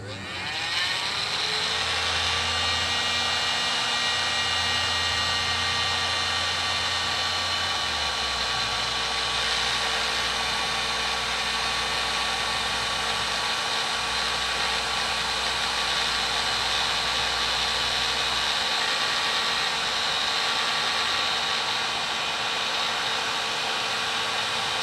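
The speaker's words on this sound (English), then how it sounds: "I use a heat gun to liquefy the Loctite that's holding this on." A heat gun warms a pushrod cable sleeve held in a vise to liquefy Loctite. It gives a steady, loud blowing whine with a constant tone that hardly changes over the whole stretch.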